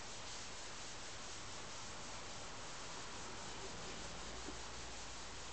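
A rag rubbed back and forth over a lathe track soaked with plenty of alcohol, giving a steady, close, continuous scrubbing hiss with no pauses.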